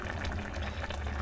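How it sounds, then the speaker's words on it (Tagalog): Chicken broth for tinola bubbles at a steady rolling boil in a pot, a dense continuous gurgle close up with no talking. "So, kumukulo na siya, oh."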